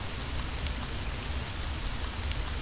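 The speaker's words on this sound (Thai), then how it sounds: "ฝนตกแล้วเนี่ย" Steady rain falls in a video game at a bus stop, a dense, even hiss of drops that stays constant and fairly loud with no breaks or voices.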